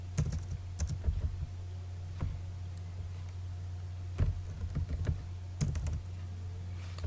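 Keys on a computer keyboard clack in irregular nearby bursts of typing over a low steady hum, with no talking.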